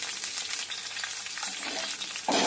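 Cumin seeds, garlic and curry leaves fry in hot oil with a dense, continuous sizzle and crackle, and a brief louder burst comes near the end as something is stirred or added.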